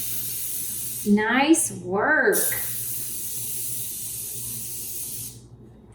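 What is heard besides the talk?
spray can spraying into a bundt pan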